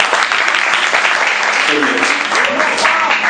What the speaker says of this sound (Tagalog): Bigyan natin siya ng mahigaming palakpak.